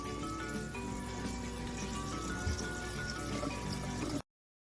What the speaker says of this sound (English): turn on cool water and keep it aside for a few seconds.